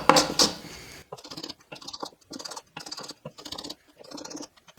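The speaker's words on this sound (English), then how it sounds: "Here I'm just planing until I can see my marked lines." A hand plane shaves wood on a workbench in a rhythmic series of short, crisp scraping strokes, each followed by a brief pause, after a louder initial clunk.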